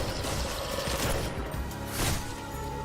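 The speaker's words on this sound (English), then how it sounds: "I just heard the gun" Rapid gunfire from Lobotomy Corporation, dense continuous shots over a busy game soundscape, no talking.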